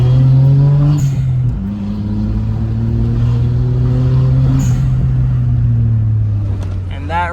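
A Daihatsu Mira revs hard through a quick pull with the check engine light on, engine pitch climbing, dropping at a gear change and climbing again, loud and close inside the car.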